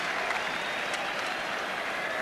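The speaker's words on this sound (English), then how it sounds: "Good applause, of course, for the home team." A football crowd at Highbury applauds the home team Arsenal before a Division One match against Tottenham, a dense, sustained roar of clapping from a large stadium audience, steady and loud.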